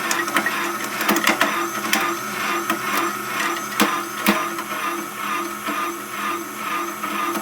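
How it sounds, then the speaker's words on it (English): A homemade plastic shredder with misaligned bearings grinding plastic: a continuous loud mechanical whir and crunch, with irregular sharp snaps and clicks as pieces break. "That wink wink noise is some misalignment that I managed to introduce welding the bearing caps on."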